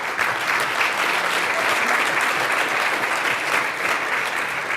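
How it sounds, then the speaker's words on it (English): An audience at an afternoon session of a forum on building smarter infrastructure gives the panel a sustained round of applause, dense and even, with nobody speaking over it. "Give the panel a round of applause,"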